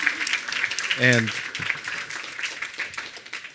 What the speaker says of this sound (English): Let's give a round of applause to our panelists for the wonderful discussion.